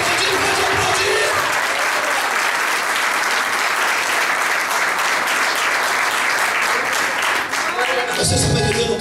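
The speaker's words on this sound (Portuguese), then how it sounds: "Pode aplaudir, pode aplaudir, pode aplaudir." Sustained, loud applause from a Pentecostal church congregation during a festival service, a thick continuous roll of many hands clapping that cuts off sharply near the end as a voice returns.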